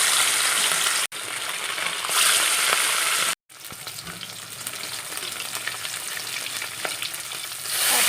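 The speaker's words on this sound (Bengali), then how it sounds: "তেল গরম হয়ে গেছে ভাজতে শুরু করি" Large pieces of fresh fish frying in hot oil give a loud, steady sizzle and crackle throughout, briefly cut by two short dropouts, with no talking.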